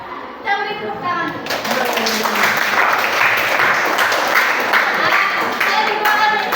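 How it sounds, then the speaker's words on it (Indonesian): Classroom applause during a practice teaching lesson, as pupils break into a steady burst of clapping that carries on for several seconds, with children's voices chattering underneath. "tepuk tangan."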